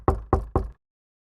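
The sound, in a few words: knocking on a door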